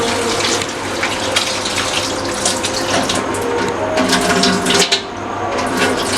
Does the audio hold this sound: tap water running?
yes